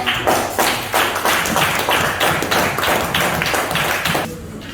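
A group claps in applause, a dense run of steady, close claps that stops abruptly near the end.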